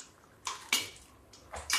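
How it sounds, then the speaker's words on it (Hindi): Hot water is poured into a freshly tempered pot of urad dal in a home kitchen. It makes a few short, quiet splashing, sizzling bursts separated by brief pauses. "अब थोड़ा सा गर्म पानी हम डाल देते हैं"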